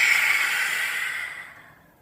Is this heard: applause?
no